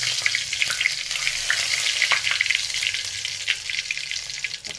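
Spices and dried red chilies fry in hot oil with a steady, bright crackling sizzle and scattered sharp pops, moderately quiet, with no voices.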